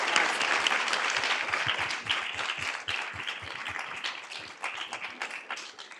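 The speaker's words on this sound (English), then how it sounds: "would you join me in giving a round of applause?" An audience at a women in leadership and philanthropy panel gives a dense, sustained round of applause that slowly thins out toward the end.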